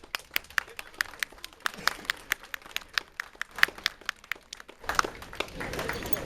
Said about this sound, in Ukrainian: ці оплески це найкраща нагорода вашій роботі